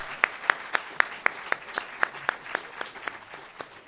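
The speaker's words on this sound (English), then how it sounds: "Can we have a round of applause for the next generation of lawyers?" Rhythmic, evenly spaced claps at a law school event honoring admitted students, sharp regular beats about four per second over a faint room background, sounding like a small group clapping in unison.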